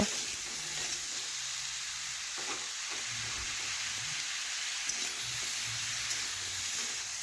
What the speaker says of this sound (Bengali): এইভাবে নাড়াচাড়া করে ভেজে নিচ্ছি